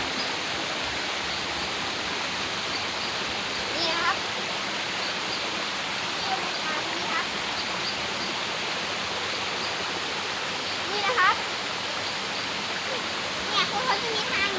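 A waterfall in a shady forest park rushes in a steady, broad wash of falling water, with a few brief splashes standing out now and then.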